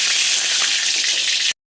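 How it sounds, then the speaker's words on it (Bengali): Whole bay leaves crackle and sizzle in hot mustard oil in a wok, a loud, dense, continuous frying hiss that cuts off abruptly. "এখন কড়াইয়ের মধ্যে সর্ষের তেল দিয়ে দিয়েছি, তেল আমার গরম হয়ে গেছে। এখন দিয়ে দেবো গোটা তেজপাতা"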